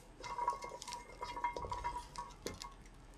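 Thawed green onion roots, still slightly wet from the freezer, are stir-fried in a pan with soft sizzling and light clinks of a utensil against the pan, quiet and close with no talking.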